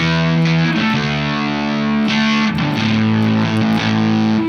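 Loud, heavily fuzzed electric guitar chords through a silicon fuzz pedal ring out, buzzing and saturated, with a couple of chord changes and no talking.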